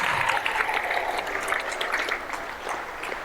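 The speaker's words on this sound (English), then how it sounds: "Round of applause for that person right there." An audience at a positive-choices substance-free talk applauds with dense, steady clapping throughout, a sustained wash of many hands at moderate distance.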